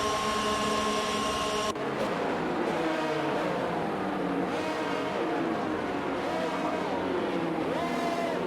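F1 racing cars forming up on the starting grid in the F1 22 video game, several engines droning and revving with rising and falling whines, with commentary talk over them.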